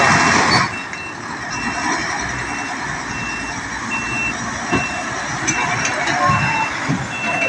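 A truck reverses at night while unloading from the Starlite Eagle ship at Dangay port in Roxas. Its evenly spaced high beeps repeat over a continuous engine and port rumble, with occasional voices nearby.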